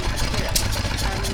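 A Lion stationary engine runs steadily at a transport festival, a continuous mid-to-low mechanical drone with no distinct beats, loud and close throughout.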